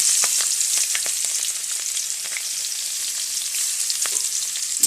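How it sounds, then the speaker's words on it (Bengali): Crushed garlic cloves frying in a pan with black cumin, slit green chillies and bay leaves, a steady close sizzle with small crackles and no voices. "রসুনটা আমার ভালো করে ভাজা হয়ে গেছে"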